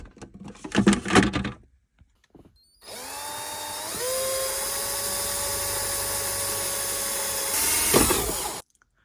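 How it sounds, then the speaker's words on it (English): A short burst of rattling is followed by a power drill whining steadily as it bores a hole through the back of a box, its pitch climbing once before it cuts off. "I'll drill a hole in the back of this box"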